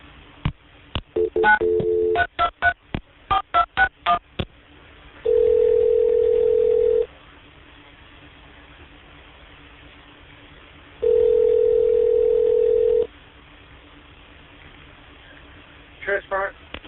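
Tones from a telephone call transfer: a rapid burst of dialing beeps, then two long steady ringback tones separated by a quiet gap, and a few more brief beeps at the end, all heard through a phone line.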